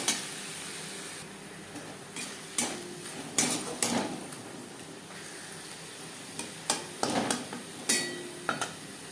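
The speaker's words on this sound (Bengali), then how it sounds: "পেঁয়াজের সাথে মশলা বেশ ভালো করে মিক্স করে দেবো" A spoon stirs a ground tomato, ginger and green chilli paste into onions in a pan, scraping and clinking against the metal in irregular strokes over a faint steady sizzle.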